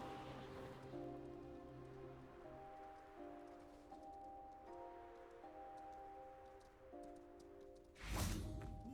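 Steady rain pattering over the soundscape of the Hogwarts Legacy video game, a continuous wash beneath sustained music tones, ending in a loud burst of a spell or impact near the close.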